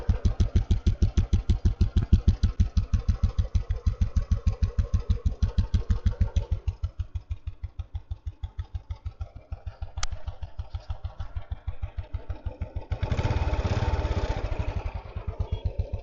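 A 2003 army-model Royal Enfield Bullet motorcycle idles with a steady, evenly spaced thumping beat, close and clear, a brief louder rev near the end before settling back into the same rhythmic thump.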